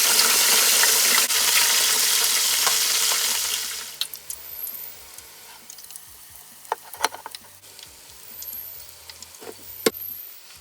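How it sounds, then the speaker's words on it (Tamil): Onions and green chilies deep-fry in oil with a loud, steady, close sizzle for about four seconds. It then drops to quiet scattered crackles and light utensil clinks. "இந்த வெங்காயத்தையும் நிறைய போட்டு இந்த பச்சை மிளகாயும் போட்டு பொரிச்சு"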